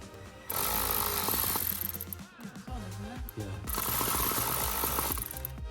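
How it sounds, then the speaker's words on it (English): A power tool whirs in two loud bursts, with a short pause of clicking and handling between, while tightening Jubilee clamps on silicone and hard intake pipes of an Audi TT, heard close up without talk. "once they are in position, I am tightening up the Jubilee clamps"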